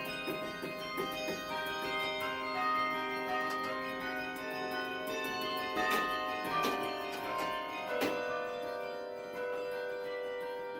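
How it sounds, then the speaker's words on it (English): A large clock tower bell at Clemson University's Tillman Hall rings with long, sustained humming overtones, struck a few times by its inside clapper with metallic clangs, faint and echoing with ticking in the background. "it is moving the inside clapper on the inside of the bell, hitting the side of the bell vibrates"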